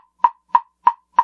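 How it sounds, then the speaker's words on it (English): Plastic wood block struck with a gray mallet, four evenly spaced hollow knocks, sharp and close with short decay. "See what this one sounds like when I use the gray mallet."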